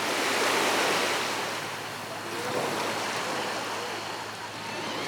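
Calm sea waves wash onto a beach on Koh Samui in sunny, breezeless weather, a continuous soft surf roar with gentle swells and a faint wash of wind noise.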